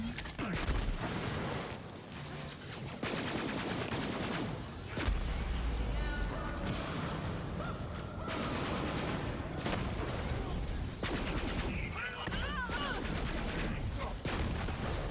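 Rapid gunfire from the Grease Trap weapon in the shooter game Borderlands 3, dense bursts of shots with gaps, under someone talking and game effects.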